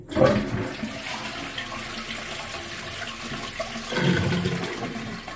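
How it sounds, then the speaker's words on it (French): A wall-hung toilet cistern with a two-button dual flush is flushed: a close, loud rush of water that runs steadily for several seconds, then swells again near the end, with no talking. "je peux appuyer sur l'un des deux boutons pour vidanger"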